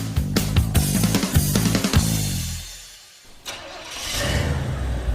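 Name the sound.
1968 Pontiac Firebird barn find engine starting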